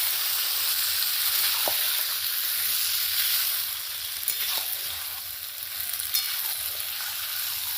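Duck meat slow-frying in a pan for a spiced curry, with a continuous dense sizzle and occasional soft scrapes of stirring, steady and close throughout.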